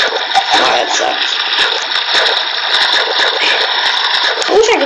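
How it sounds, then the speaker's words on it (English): Steady rushing and splashing of flowing water from a Minecraft Pocket Edition world, filling the clip without a break while a voice talks over it. "There was this annoying water sound."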